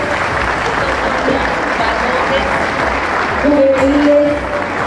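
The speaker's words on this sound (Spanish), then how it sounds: "tenemos un fuerte aplauso" A crowd in Iztapalapa gives strong, continuous applause for a local silver medallist, a dense roar of clapping that swells slightly near the end, with a brief voice over it.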